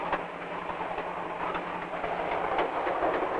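A 1950s freight train rolls slowly across a bridge at about 20 miles an hour, a steady rumbling clatter of wheels and cars, moderately distant and continuous with no voices.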